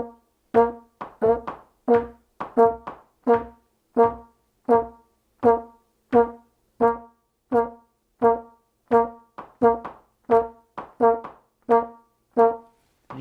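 Metronome click track for jazz rhythm practice, steady percussive clicks with a pitched tone, grouped to alternate between bars of four and three beats, playing alone and clearly throughout.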